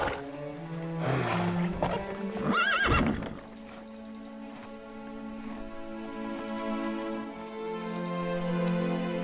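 A horse neighs loudly in the Lego The Hobbit video game, a few whinnies in the first seconds, followed by a steady game music background.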